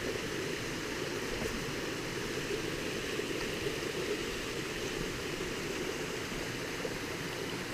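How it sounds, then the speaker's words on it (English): A waterfall roaring with a constant broadband rush of falling water, steady and unbroken, heard from a moderate distance with no voices over it. "This is the same waterfall we were at a few,"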